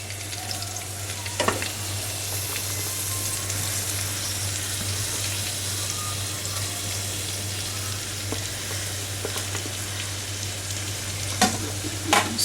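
Onion sizzling in hot oil while being stirred with a spatula: an even frying hiss with a low steady hum beneath and a few sharp scraping clicks, no voices.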